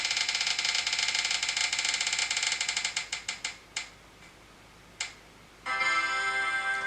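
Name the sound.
spinning prize wheel ticking as it turns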